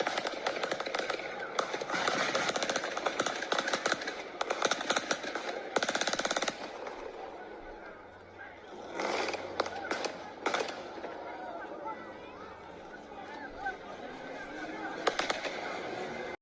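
Rapid gunfire in Oakland, long bursts of cracking shots that come in dense, uneven volleys, fade briefly, then burst again, heard from a distance amid the crackle.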